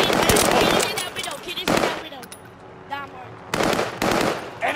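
Bursts of automatic gunfire from a Warzone match crackle in loud clusters, pausing between volleys, with game sounds and a voice briefly audible in the gaps.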